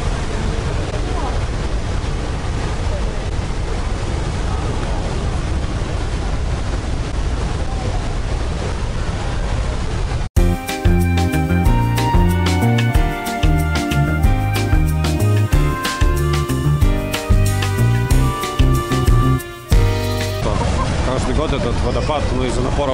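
Roar of Niagara Falls: a steady, loud broadband rush of pounding water for about ten seconds before music abruptly takes over, with the water noise returning faintly at the very end.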